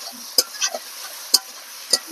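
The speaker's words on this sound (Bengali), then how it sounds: "টমেটোটা নাড়তে নাড়তে যখন টমেটোটা একটু গলে গলে যাবে" Tomato being stirred and fried in a pan: three sharp scraping stir strokes spaced about a second apart, with a few softer utensil taps between them over a faint background sizzle.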